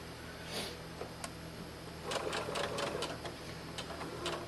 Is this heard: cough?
no